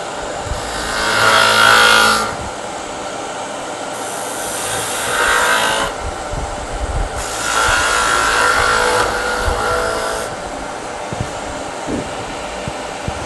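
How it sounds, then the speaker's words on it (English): Wood is whittled down on the underside of a handmade box, heard as a continuous rough grinding rasp that swells and fades in three or four long passes, loud and close, with no talking. "I'm just going to whittle down this, try and finish up as much of the underside as I can"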